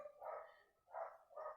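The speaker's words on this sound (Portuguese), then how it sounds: "O Cássio, os cachorros começaram a latir, eu perdi a linha de raciocínio." Several dogs bark in three short bursts, fairly faint and somewhat distant, heard behind the setting of a post-match football discussion about Cruzeiro beating Vila Nova 2-0.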